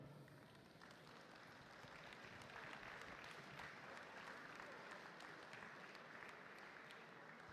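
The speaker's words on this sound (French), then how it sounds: "Allez, on peut les applaudir très fort encore une fois." An audience applauds prize winners at a FIRST Tech Challenge regional robotics competition in Neuville-sur-Saône, a sustained, dense roar of clapping that swells slightly midway and continues steadily.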